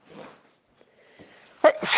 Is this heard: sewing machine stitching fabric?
no